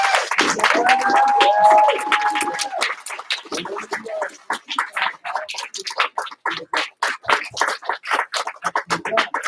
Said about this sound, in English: So I'll give him a big round of applause.